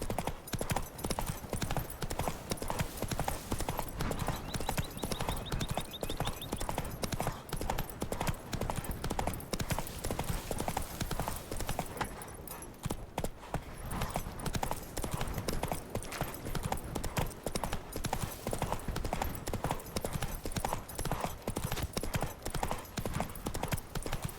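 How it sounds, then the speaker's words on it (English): Horse hooves clip-clop at a steady galloping rhythm throughout, loud and close, from the open-world fantasy video game The Witcher 3: Wild Hunt, with occasional faint snorts and a brief lull midway. "Run, Roach"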